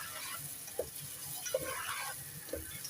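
Onions fry in mustard oil in a pan, giving a soft, steady sizzle, with a few faint taps of a spoon as they are stirred.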